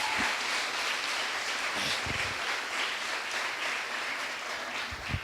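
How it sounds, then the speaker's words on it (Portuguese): Applause from a congregation at a church youth event during a sermon, a faint, distant, steady wash of clapping that holds evenly throughout without voices. "Isso, aplaude o nome dele."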